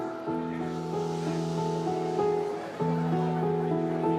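Someone imitates a receding wave with their voice, a breathy sustained hiss that swells and eases over a few seconds, close to the listener.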